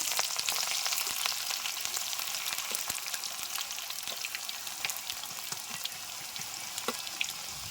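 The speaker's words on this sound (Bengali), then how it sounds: "পোলাও রান্না করার জন্যে বেরেস্তা করে নেব। বেরেস্তাটা আগে ভেজে নেব।" Onions sizzle and fry steadily in white cooking oil in a kadai while making beresta for pulao, a continuous close crackle with occasional louder pops and no talking.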